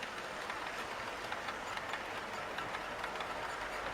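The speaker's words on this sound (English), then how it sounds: "So here goes Mark's S15. Look at that. And those beautiful carriages" A model railway train, an S15 locomotive hauling carriages around a loft layout, rumbles steadily with a continuous rolling clatter throughout, fairly close and moderately loud, with no talking.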